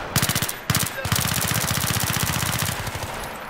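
Loud, rapid automatic gunfire in the video game Battlefield 3, in long sustained bursts with brief gaps, close and relentless, with game-like sound effects.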